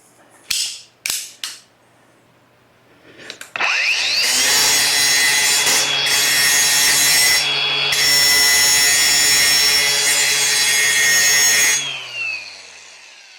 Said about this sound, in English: Now, I'm going to try to grind right in here.